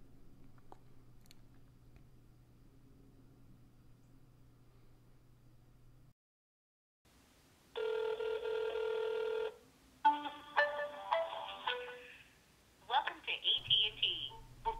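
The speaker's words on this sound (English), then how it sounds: "Let's make a phone call to our friends over at AT&T this time." An iPhone places a call to AT&T, with a quiet hum giving way to bursts of tones, dialing and ringing on the line, followed by an automated voice speaking faintly over the phone.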